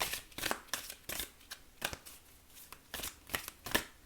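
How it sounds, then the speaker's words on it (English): Oracle cards are shuffled by hand in a quiet room, a series of soft, papery riffles and flicks in an uneven rhythm, close and faint, with no talking. "Let's pull you a card from the Wisdom of the Oracle."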